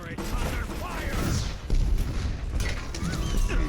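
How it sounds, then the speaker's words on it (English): Gunfire striking a turret in Overwatch, heard as dense, continuous clattering impacts and shots mixed with game effects, while a character voice speaks over the noise. "Turrets under fire."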